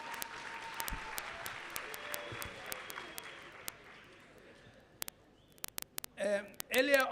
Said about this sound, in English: When I ask that we give them a big round of applause, let's do so, please.